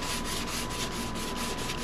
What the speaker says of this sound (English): After I get done block sanding this here